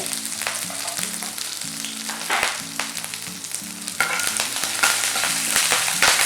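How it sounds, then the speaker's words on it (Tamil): Garlic, dried chillies, shallots and curry leaves fried in oil for a roadside-style kara chutney: a dense continuous sizzle with crackles and bursts of spattering, getting louder about two-thirds through, with no voices over it. "இப்போ பூண்டு சேர்க்குறேன், காஞ்ச மிளகா, சின்ன வெங்காயம், கருவேப்பிலை,"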